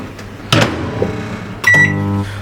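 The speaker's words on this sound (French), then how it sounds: "On le met dans le micro-ondes." A microwave oven used to melt butter: a door or panel clunk, then beeps and the oven's steady electrical hum starting up, close and loud.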